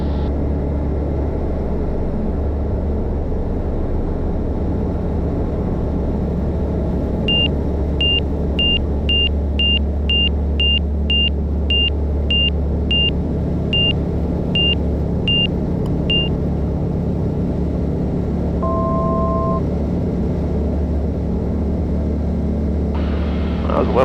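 A light airplane rolls along the runway after a smooth touchdown on a pilot's third flight, with a steady loud cabin rumble, a long run of rapid evenly spaced beeps partway through, and a brief two-tone chime near the end.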